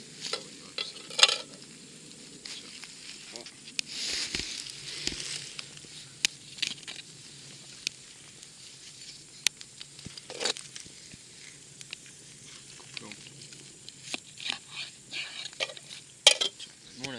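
A knife cutting charcoal-grilled, smoke-cooked meat on a plate at an outdoor bivouac gives faint scattered scrapes and sharp little taps against the plate over a quiet outdoor background.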